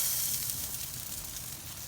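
Chicken thighs sizzle in a smoker, giving a steady, close, bright hiss of fat and steam with a dense crackling texture and no voices.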